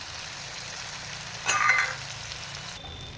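Nut paste tipped into hot oil for an aloo dum masala, giving a brief sizzling burst in the middle amid a low steady background hiss, with no voices.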